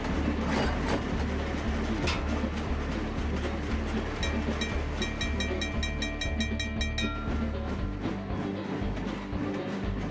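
A train running in the Trainz railway simulator gives a steady low rumble with a rhythmic clicking over the track joints, plus a cluster of bright, evenly spaced ticks partway through, continuous and moderately loud without talk.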